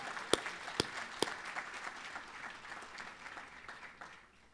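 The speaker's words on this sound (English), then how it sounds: "Let's give them a round of applause and thank them for being here." A few sharp claps ring out at a State Bar of Georgia inaugural gala, then settle into steady applause from a moderate crowd that gradually fades away.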